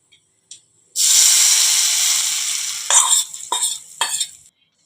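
Batter for paniyaram meets hot oil in a sudden, loud sizzling rush that slowly fades, followed by several short scraping stirs, close up with no voices.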